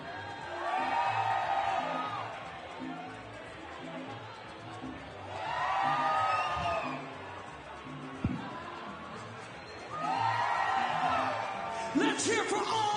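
Crowd at a live fight event (KC41, Chelmiah vs Tebeuv) roaring and cheering in three swelling waves about four seconds apart, with whoops and yells above a steady murmur, plus a brief sharp burst near the end.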